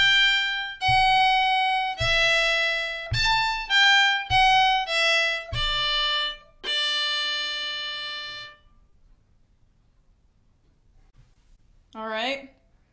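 A fiddle bows the opening two phrases of the tune Red Haired Boy as a run of about eight clear, sustained notes, then goes quiet before one short final note.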